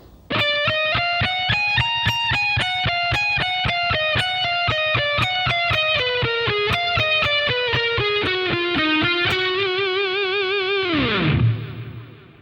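An electric guitar plays a fast, even run of single notes from a lesson with distortion and effects. The notes climb and descend across the neck in a steady stream and end in a falling slide, with no voices.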